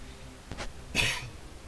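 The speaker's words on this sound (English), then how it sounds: "Gonna cough here in a second." A short, muffled cough burst with a smaller throat sound just before it, quiet and brief against a low background.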